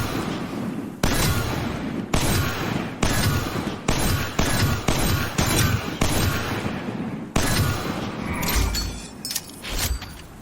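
Hand cannon in a video game fires roughly a dozen sharp, metallic snapping shots at an irregular pace, each loud and close, with a brief reload-like pause near the end.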